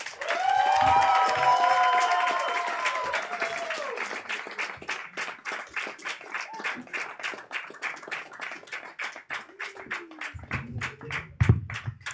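Comedy club crowd in Lviv breaks into applause after a stand-up set, a dense roar of clapping with some cheering that thins into rhythmic, evenly spaced claps, while a voice speaks over the opening seconds.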